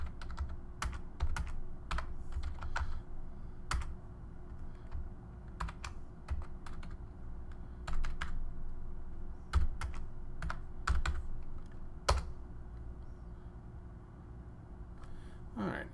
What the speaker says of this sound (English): I'm just going to type in a command that will allow me to find large files